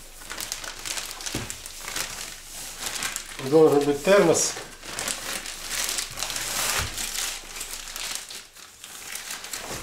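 A plastic Ozon delivery package crinkles and rustles as it is handled, with crackling bursts throughout while someone talks over it.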